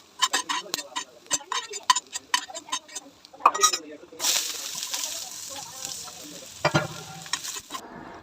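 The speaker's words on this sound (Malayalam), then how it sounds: "ബാക്കിയുള്ള നെയ്യിൽ തന്നെ സവാളയും കൂടെ വറുത്ത് കോരി എടുത്തിട്ടുണ്ട്." Onions frying in ghee, with irregular crackling and stirring clicks, then a steady loud sizzle as something hits the hot fat. No talk is heard.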